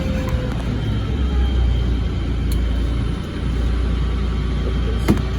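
Ford 7740 diesel tractor engine idling steadily nearby, a continuous low rumble with a faint whine and a couple of small clicks, no talking.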